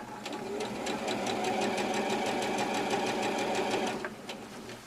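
A sewing machine stitching a patch pocket runs in a steady, fast mechanical whir with rapid needle ticks, close and continuous for about four seconds before it slows and stops.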